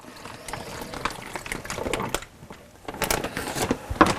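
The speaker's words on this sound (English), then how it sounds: "we're going to pour our marinade right in this bag" Marinade for a bleu cheese stuffed leg of lamb is poured into a vacuum seal bag, giving a close, wet gurgling trickle that swells and eases in uneven bursts over a few seconds.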